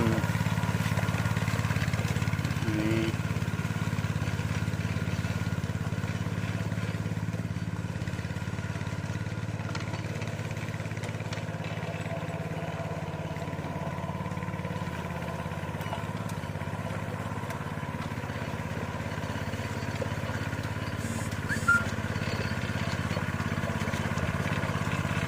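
A home-modified rice-field plough tractor with widened wheels runs its engine steadily throughout, a continuous low, even drone at constant loudness with no pauses, heard alone.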